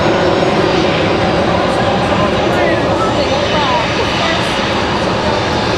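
A Lufthansa airliner at Raleigh Durham International Airport gives off a loud, steady, broad jet roar that fills the whole stretch.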